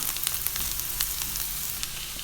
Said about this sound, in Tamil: இதையும் நல்லா வதக்கி விட்டுறணும். இந்த மாதிரி கோல்டன் கலர் வந்ததுக்கு அப்புறமா